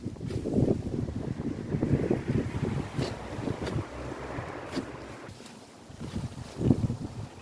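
Wind gusts buffet a microphone outdoors while blackberries are being picked, making a rough, fluctuating low rumble that swells and eases throughout, with a few brief knocks, loud and close, and no clear speech.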